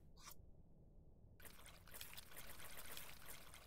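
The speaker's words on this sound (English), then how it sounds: "So, warm water. I should probably add the water, okay, in the same bowl." Warm water poured into a bowl during a cooking scene in the game Venba, a short trickle followed by a steady, close pouring stream that continues to the end, with no talk.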